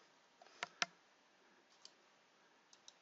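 Mouse clicks on a computer's OK button: two sharp, close clicks early on, then a few fainter ticks spread apart in an otherwise quiet room.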